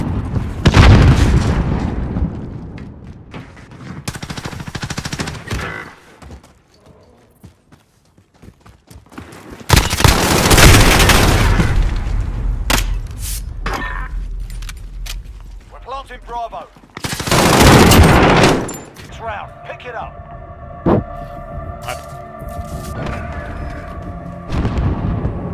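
Bursts of MP5 submachine gun fire in a Search and Destroy video game match, loud rapid volleys separated by quieter gaps, with booms and game effects mixed in.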